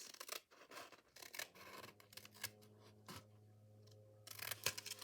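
Paper being trimmed for an envelope journal cover: quiet snips and rasping scrapes of scissors against paper, a few separate cuts with short pauses, close and soft with no talking.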